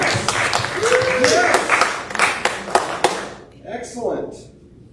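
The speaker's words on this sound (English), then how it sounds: "Can we get a round of applause for prayer service?" Church congregation applauding during a Sunday worship service, a burst of clapping over the first three seconds mixed with cheering voices, then fading as someone begins speaking.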